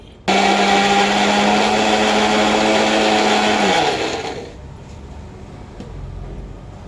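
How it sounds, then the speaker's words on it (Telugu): A kitchen mixer grinder blending boiled amaranth greens and ginger whirs loudly at a steady high pitch for several seconds, then switches off and spins down to near silence. "ఇది ఒకసారి మిక్సీ పట్టుకుందామండి"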